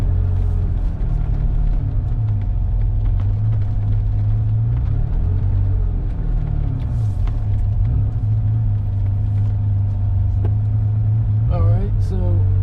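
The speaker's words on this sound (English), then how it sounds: "There's a lot of traffic this evening." Steady low road rumble from inside a moving vintage Porsche 911 in evening traffic, engine drone constant throughout with shifting tones of passing vehicles, and a voice talking over it.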